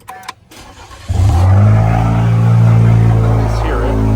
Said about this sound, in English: let's go ahead and start this up